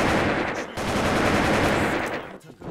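Rapid loud gunfire in the Wolfteam video game, a dense automatic burst filling nearly the whole moment and tapering off at the end.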